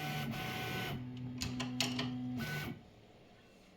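A high-temperature 3D printer homes its axes, stepper motors whining in short tonal bursts with rising and falling pitch, close and clear, ending abruptly into quiet room hum.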